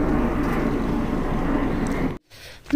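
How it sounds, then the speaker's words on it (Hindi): A helicopter flying overhead makes a steady, loud, broad engine roar and rotor rumble. It cuts off abruptly near the end, followed by quieter sounds. "हेलीकॉप्टर।"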